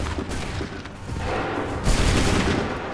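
Musket volley fired by a line of soldiers in Assassin's Creed 3, a dense rolling burst of overlapping shots, loud and near, with a second heavier crack of fire toward the end.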